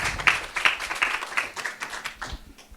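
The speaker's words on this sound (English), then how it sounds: "please clap hands for Nehima" Scattered hand clapping from a small group at a university science faculty workshop, uneven and moderately loud, tapering off over a few seconds with no talking.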